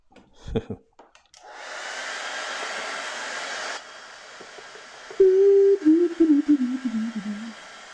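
A hair dryer runs steadily for a few seconds to dry a watercolour painting in a dark-mood workshop, then drops to a lower setting; a voice speaks briefly over the lower hum near the end.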